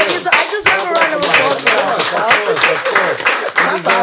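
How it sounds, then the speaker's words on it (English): A few people clap along in quick, uneven bursts, mostly buried beneath continuous overlapping chatter and laughter in a casual talk-show setting. "Clap it up for her."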